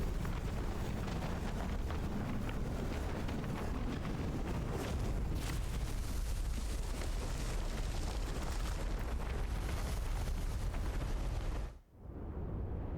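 A self-destruct explosion in Final Fantasy XVI: a sustained, loud, roaring blast of rumbling noise that rolls on for over ten seconds before cutting abruptly to near silence.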